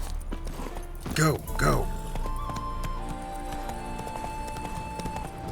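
Horse hooves clip-clop steadily in the video game Witcher 3, mid-distance, with a couple of whinny-like vocal bursts early on, while a voice speaks briefly over it.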